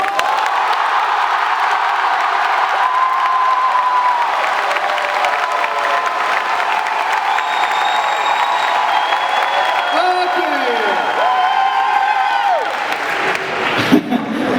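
Audience applause and cheering fill a live drawing-battle vote between two manga artists, steady and loud throughout, with whistles and whoops rising near the end.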